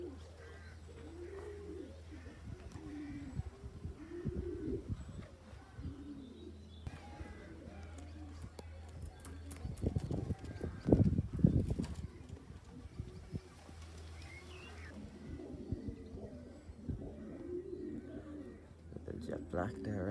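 Racing pigeons at their loft give soft, repeated low coos and occasional chirps across the whole stretch, over a steady low background hum, with a busier burst of calls midway.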